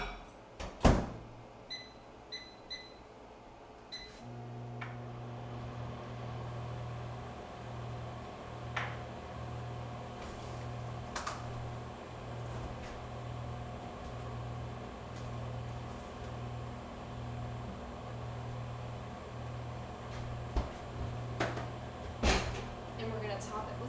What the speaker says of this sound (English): we're going to plop this back in the microwave for 1:30 minutes.